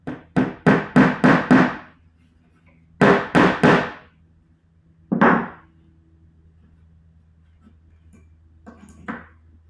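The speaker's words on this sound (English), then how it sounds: "I'll just put a nail on this side." A nail is hammered into wood while station molds and a keel are built for a Big Ben Garvey boat: two sharp bursts of rapid, ringing hammer blows, then a single heavier strike and a faint final tap, close and loud in a quiet room.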